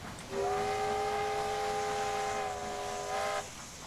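A steam train in Transport Fever sounds a single long, steady whistle with a chord-like tone, loud and close, held about three seconds before cutting off, over a low rumbling background.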